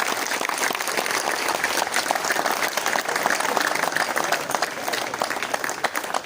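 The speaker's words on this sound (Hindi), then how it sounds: "आप लोगों से मैं बहुत दोबारा गुजारिश करूंगा कि जोरदार तालियों से इस लम्हे को आप तारीखी बनाएं" Audience at a felicitation ceremony breaking into loud applause, a dense, sustained crackle of many clapping hands at steady volume, with crowd voices faintly underneath.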